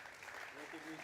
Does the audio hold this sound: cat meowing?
no